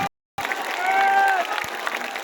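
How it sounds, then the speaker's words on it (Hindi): A crowd at a political rally in a veterinary college setting bursts into loud, sustained applause after a short silence, the clapping dense and steady with a tone ringing faintly through it. "जोर से बजाइए ताली"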